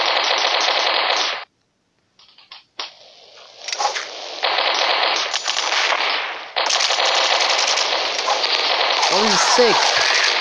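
Rapid automatic gunfire in the mobile shooter game Mini Militia, loud sustained bursts that break off briefly and resume, with a brief excited voice near the end.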